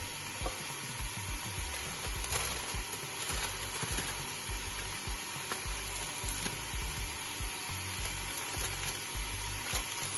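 Meat browning in a pan for haleem, giving a constant, close hiss of frying with faint crackles and occasional utensil taps, fairly quiet and steady throughout, no voices.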